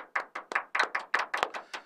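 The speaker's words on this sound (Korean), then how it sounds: "박수" Hand clapping at the start of a Korean live talk show, about ten crisp, evenly spaced claps in under two seconds, close and moderately loud, with no voices.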